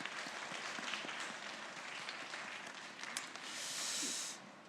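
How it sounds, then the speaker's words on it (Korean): A church congregation at a Sunday youth service applauds, a steady wash of clapping heard at some distance, with no speech over it. "서로 이제 선교에 참여한 사람들을 좀 축복하고 격려하면서 수고했다고 서로에게 박수 한번"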